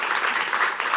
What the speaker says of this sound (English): please give another round of applause for our fantastic actors